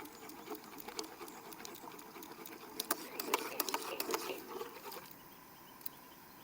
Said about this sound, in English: one of them electric things that you shove in and whisk it around so it froths it all up